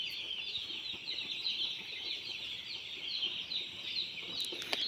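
Dense, continuous chatter of many chickens clucking inside a poultry farm shed, a steady high-pitched flock din with no single bird standing out and no talking.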